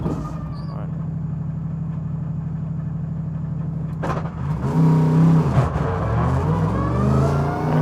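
A Mercedes AMG GT3 race car in a racing video game, driving into the pit lane at the Wuhan circuit. A loud, steady engine drone shifts and revs partway through, with a voice talking over it.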